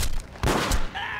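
Gunfire in the Max Payne video game, a few sharp loud shots in quick succession with a brief pause between bursts, heard close and without talk.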